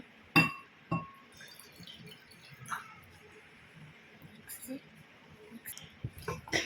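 Tamarind water goes into a glass bowl for Ugadi pachadi, with a sharp glass clink early on and a few lighter clinks and splashes later. A voice talks quietly underneath.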